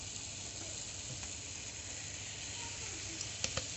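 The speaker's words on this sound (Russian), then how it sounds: "масло уже у нас почти растаяло" Butter melting in a pan for Baku halva gives a steady, soft sizzle and frying hiss throughout, with a couple of faint clicks near the end and no talking.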